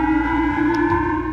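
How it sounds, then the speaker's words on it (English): A civil defense siren warning of a North Korean missile over Hokkaido, Japan, produces a loud, continuous, steady wail that fills the whole stretch without a break. "n tourist Matt Gallott, staying in Hokkaido, was awoken by the deafening sirens."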